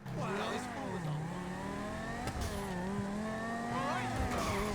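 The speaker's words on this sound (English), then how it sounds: "if you like that turbo sound, you're going to love this thing for sure" Turbocharged Banshee sports car in GTA Online, engine revving and rising in pitch through gear changes with a steady whining tone, close and loud, with a voice talking over it.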